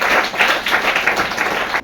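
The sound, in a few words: audience clapping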